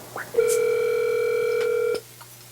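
On-air phone line while calling in to a live show, a single long steady electronic ring tone, about one and a half seconds, loud and close after a couple of short clicks.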